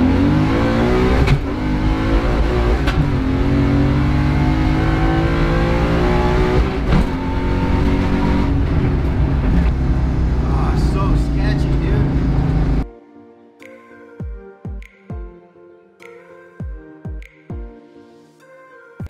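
A Coyote-swapped New Edge car accelerates hard from the driver's seat, its engine winding up to about 7,500 RPM through gear shifts in a loud, continuous rising roar. The sound then cuts off and leaves a few sparse thumps.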